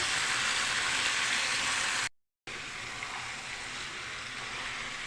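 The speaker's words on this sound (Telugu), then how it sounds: "కలిదిప్పుకుందామండి" Andhra-style chicken curry frying in a pan while being stirred, a steady close sizzle that cuts out briefly midway and then resumes.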